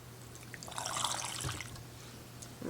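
Pickling brine for pickled eggs is poured in a kitchen, a soft splashing trickle of liquid that swells for about a second and then tapers off over low background hum.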